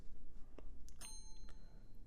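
A desk bell pressed in the Minecraft Create addon rings once as a short, faint metallic ding with a sustained tone over quiet background noise.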